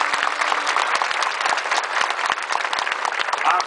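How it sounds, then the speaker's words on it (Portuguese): Congregation in a church giving a strong round of applause, dense continuous clapping with a few crisp close claps standing out and scattered voices among the crowd. "pode aplaudir o Senhor."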